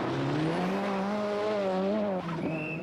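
A Ford Sierra RS Cosworth rally car on a Circuit of Ireland stage, its engine rising and falling in pitch as it drives through, loud and close, with a brief scrabble of tires near the end.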